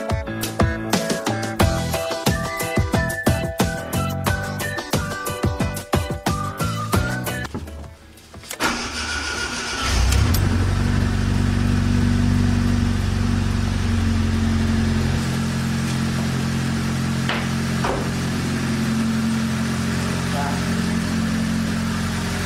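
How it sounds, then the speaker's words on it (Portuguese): A 1998 Fiat Palio fitted with an adapted radiator fan motor cranks and fires up after several seconds of music, then settles into a loud, steady close-up idle that continues alone. "eu vou ligar o carro para testar, para ver se a nossa adaptação vai funcionar."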